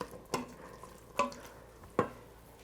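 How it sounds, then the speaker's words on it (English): A spoon stirs black-eyed peas and bacon in an Instant Pot, giving three distinct scraping knocks against the metal insert at an even, unhurried pace, close and quiet, with no talking. "we're just going to give this a little stir"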